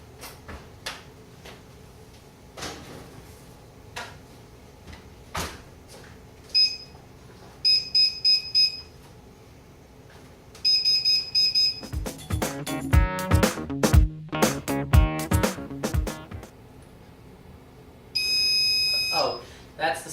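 Kitchen oven timer or alarm beeping several times in short bursts to signal a baking cake is done, with clattering and handling noises in between and a final burst of beeps.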